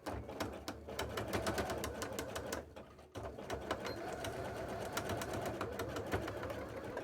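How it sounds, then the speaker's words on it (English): Sewing machine stitching fabric for a present, a rapid steady mechanical clatter of the needle that runs continuously, pauses briefly near the middle, then resumes, heard close and moderately quiet. "And then just sewing it in where it fits well for them to roll up to."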